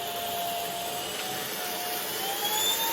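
An Ultenic U10 cordless vacuum cleaner runs close by with a steady high-pitched motor whine and airy rush, its tone rising slightly as it ramps up.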